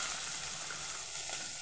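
Capsicum and beans frying in oil in a kadai, a steady dense sizzle running evenly through the short moment without a break.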